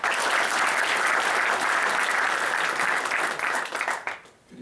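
An audience applauds a speaker at an evening tech talk, a loud, dense burst of clapping that holds steady, then thins out and fades near the end.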